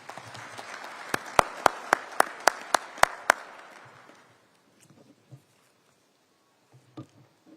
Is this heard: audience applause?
yes